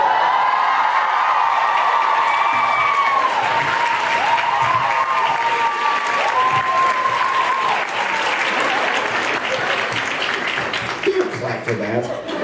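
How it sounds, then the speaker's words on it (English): A live audience breaks into loud, sustained applause mixed with cheering and whoops, a dense wash of clapping that holds steady for several seconds, with a voice calling out over it. "Don't clap for that."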